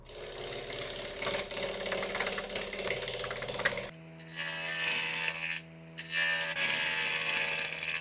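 A wood lathe takes a quarter-inch cut on a natural edge burl bowl, with a steady whirring and scraping hum, briefly cutting out twice in the second half.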